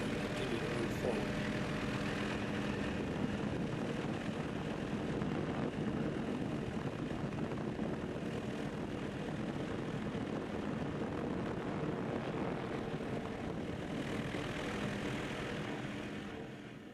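Steady, loud aircraft engine drone fills a sightseeing flight over an active lava flow on Hawaii's Big Island, a continuous broadband roar that holds level throughout and eases slightly at the very end.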